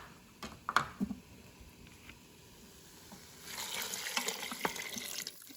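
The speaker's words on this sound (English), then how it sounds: "There, and next goes the water." Water for hot and sour soup pours into a pressure cooker pot, a soft gurgling splash that swells after a few quiet clinks and handling noises.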